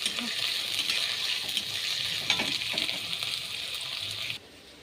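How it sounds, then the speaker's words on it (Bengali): Chopped onion and chili frying in oil in a pan produce a continuous sizzle with a few scraping stirs, close by, before the sound abruptly drops away at the end. "দেখো তেল দিয়ে দিয়েছি, পেঁয়াজ কুচি আর মরিচ কুচি দিয়েছি"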